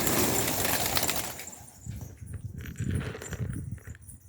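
Large birds burst into a noisy flurry of wingbeats, then settle into softer, scattered flutters and light rustling close by.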